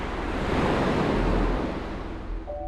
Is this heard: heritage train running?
no